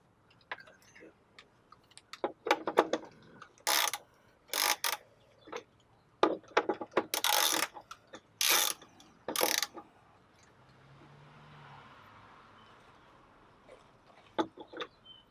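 Ratcheting clicks from a wrench tightening the drain plug during an oil change on a Powerstroke 6.0 diesel, coming in several short bursts with pauses between them, close and fairly loud, with faint background noise in the gaps.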